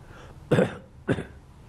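Two short, forceful coughs from a man, spaced about half a second apart, close and fairly quiet against a faint low background hum, with no talking.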